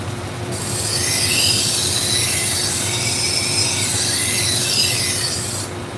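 A worn, previously used kitchen knife blade drawn steadily against a sharpening stone or belt, giving a continuous, loud rasping grind that holds evenly for several seconds with no voices over it.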